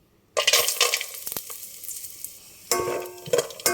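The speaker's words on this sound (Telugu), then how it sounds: "ఈ రెండు బాదము అండ్ సేమియా కలిపి వేయించుతున్నాను" Almonds and vermicelli frying together in ghee, a close, loud sizzle with scraping and stirring clatter, easing off briefly before a sharper burst of crackling toward the end.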